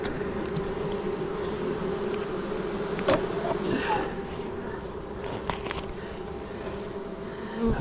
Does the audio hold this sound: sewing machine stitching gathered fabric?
no